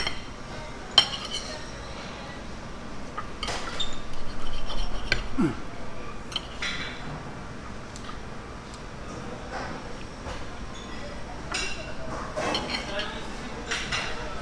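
Knife and fork working through an Australian meat pie on a plate, scattered clinks and scrapes of cutlery against the dish, fairly close, with a person talking intermittently between the sounds.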